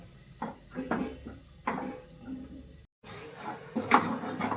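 A utensil scrapes and taps intermittently in a pan as wheat flour is stirred and dry-roasted until golden, soft irregular scratches over a faint steady hiss, with a brief gap midway.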